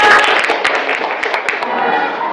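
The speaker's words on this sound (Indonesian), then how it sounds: "tepuk tangan untuk kita semua" A class of students clapping their hands together in a classroom during a lesson, a dense, steady patter of many overlapping claps that fills the room with no pauses.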